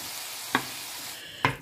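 Pork sizzles in a pan of adobong puti seasoned with patis instead of soy sauce, a steady hiss with two sharp clicks or pops spaced about a second apart.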